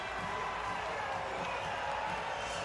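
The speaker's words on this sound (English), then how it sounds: "Another big crowd inside this arena." Big crowd murmuring and cheering inside an arena during a wheelchair basketball game at the London Paralympic Games, a steady dense roar of many voices filling the hall with no single sound standing out.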